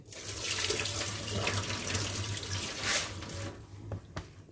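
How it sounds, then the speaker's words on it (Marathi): Soaking water draining from a container of rice and fenugreek seeds into a sink, a continuous close gush of running water that tapers off near the end. "तर आता ह्याचं वरचं पाणी काढून टाकते"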